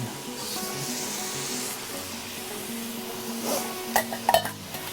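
Peppers and parsley stirred in a pan of food cooking on low heat, a steady soft sizzle with scraping stirs and a few sharp utensil clinks near the end.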